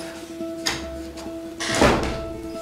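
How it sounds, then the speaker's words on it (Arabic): A door is shut indoors: a few light knocks and handling thuds come first, then a louder swinging close with a muffled thump, all over a faint steady hum. "اقفل الباب"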